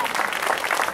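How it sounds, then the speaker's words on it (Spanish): Applause for Father Montón at a chapel's 50th anniversary fiesta in Barrio Sur, a steady, fairly loud crowd clapping for about a second with faint voices mixed in. "un aplauso grande para el Padre"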